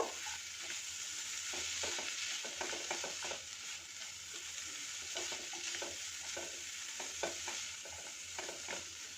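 Vegetables stirred with black pepper in a pot for hot and sour spring onion soup, a steady sizzle with repeated scraping and stirring strokes, close and continuous, no talk.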